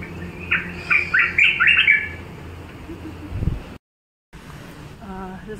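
At Singapore zoo a bird lets out a burst of sharp chirps and squawks for about a second, then the scene settles into quieter background ambience.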